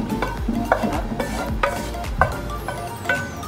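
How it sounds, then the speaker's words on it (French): Cooked carrots and sweet potatoes get stirred in a frying pan. A utensil scrapes in repeated, rhythmic strokes over a soft, steady sizzle, with no talking. "Donc j'ajoute mes carottes et mes patates douces qui sont bien cuites."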